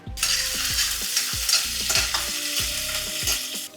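Finely chopped garlic sizzles in a spoonful of hot oil, a steady crackling fry broken by several short scraping stirs of a spoon against the pan.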